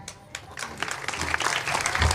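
An audience at a Marathi devotional kirtan performance breaks into applause, the clapping starting thin and quickly swelling into a dense, sustained burst from many hands in a large crowd.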